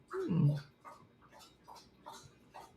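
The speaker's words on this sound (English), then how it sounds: "Time for drinking of the dogs." Dogs lap water in a quick, regular run of wet clicks and splashes, close by, after a brief low whine-like sound at the start.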